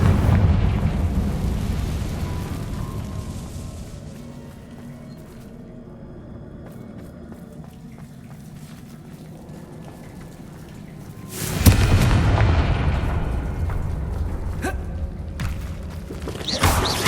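In Hogwarts Legacy, a Confringo spell explosion erupts as a sudden loud, broad blast that rumbles and slowly fades, following a stretch of low rumbling ambience.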